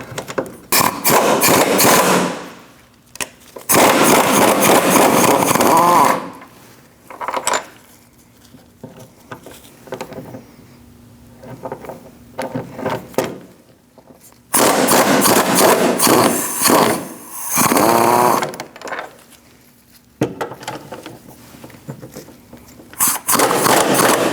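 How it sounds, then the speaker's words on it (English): Metallic clanks and ratcheting bursts from wrenching out subframe cradle bolts on a 2000-2006 Mini Cooper during control arm bracket work, coming in loud irregular spells separated by quieter pauses. "we're going to remove these 3 bolts and also the 3 on the other side"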